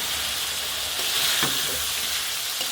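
Kumro bori with duck eggs frying in a pan, giving a steady close sizzle with a few soft stirring scrapes, no voices.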